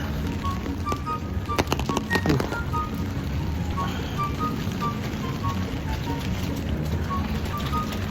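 Rain patters steadily on an umbrella during a wet morning walk, a dense continuous hiss of drops close overhead, with faint distant beeps and a brief cluster of sharper taps partway through.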